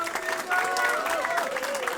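A small group of Slovenian fans greets an Olympic champion with brief clapping and cheering, their sound mixed with nearby voices in a busy crowd.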